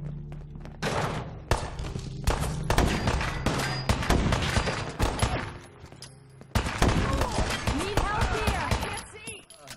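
Repeated bursts of gunfire in Fallout 4, modded PC gameplay, crack out in volleys and rapid strings across the scene, loud and close, with a character's voice speaking between shots.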